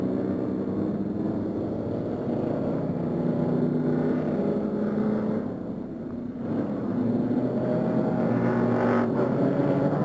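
Race cars rolling around Virginia International Raceway on the final pace lap of a Grand Am Cup event, a steady, loud blended engine rumble that holds throughout, dipping briefly before swelling again.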